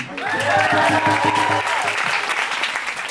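A comedy club audience claps loudly for the drummer, a dense burst of applause that peaks early and then gradually thins out.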